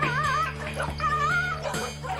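About 70 dogs packed together on a hoarder's property whimper and yip close by, with high wavering whines, short sharp yelps and a low steady hum underneath throughout.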